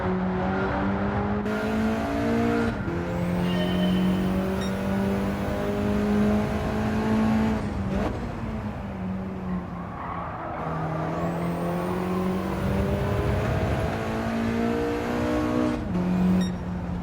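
Engine of a race car in Gran Turismo 7, driven through a cornering licence test, holds a steady sustained drone with shifting pitch, briefly dipping between runs, loud and continuous with no talk.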